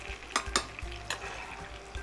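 Fried meat for a traditional stew is lifted out of a small frying pan. Faint oil sizzle runs under a few sharp utensil scrapes and clinks against the pan.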